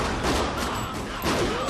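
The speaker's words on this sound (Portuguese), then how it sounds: "Nossa, quanto tiro!" Rapid gunfire in a Scream movie scene crackles in dense overlapping bursts, loud and continuous over a short stretch.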